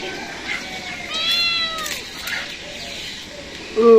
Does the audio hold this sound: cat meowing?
yes